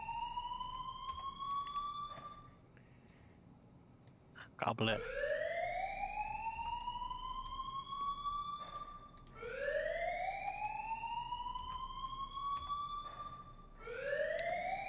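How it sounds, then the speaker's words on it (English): A loud prison lockdown alarm sounds in repeated rising electronic wails, each sweeping upward then holding, with a brief pause and a short spoken phrase between cycles. "So whenever the prison is on lockdown, this is the alarm that you will hear."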